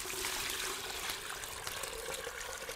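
Water pours and splashes into a large pot in a Western radio play, a continuous bright rushing stream that runs steadily for a few seconds at moderate volume, without speech.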